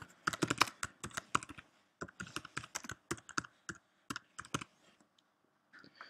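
Quiet, close computer keyboard typing as a post title is entered, rapid clicky keystrokes coming in uneven bursts with short pauses between.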